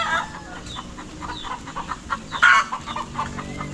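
A disturbed mother hen clucking and squawking in agitated bursts, fairly close, with some faint chick peeps and farm background.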